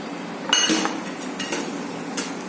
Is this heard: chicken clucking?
no